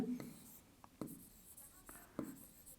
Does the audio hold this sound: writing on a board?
yes